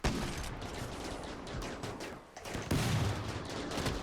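Bursts of gunfire from a RimWorld pirate raid crackle in rapid clusters at moderate level, with a sharper, louder volley partway through and no voices.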